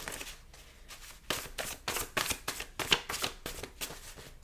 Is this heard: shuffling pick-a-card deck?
yes